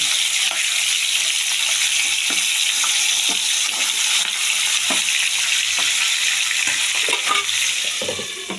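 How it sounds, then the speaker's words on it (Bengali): Pieces of shankar stingray fish fry slowly in hot oil in a pan, giving a steady, close, bright sizzle with small pops and crackles throughout. "এভাবে লাল করে সব মাছটা আমি আস্তে আস্তে ভেজে নেব"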